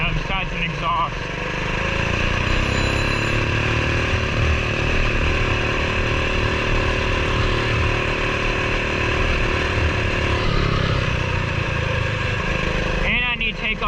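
A stock Coleman BT200X mini bike with an aftermarket exhaust runs on trails, its small engine droning steadily and loudly at a fairly constant pitch throughout, with a brief change near the end.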